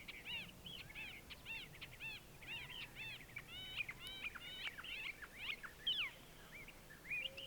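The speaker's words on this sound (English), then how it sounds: "As soon as the sun came up, it's just like a symphony of birds." Many birds chirp and call at sunrise in the remote KOFA Wilderness of the Arizona desert, overlapping quick whistled notes and short calls in a busy chorus, fairly faint and distant over a soft background hush.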